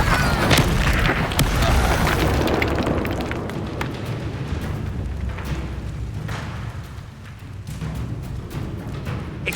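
A Confringo explosive spell bursts in Hogwarts Legacy combat, a loud booming blast that rumbles and crackles for several seconds before easing into a lower sustained roar.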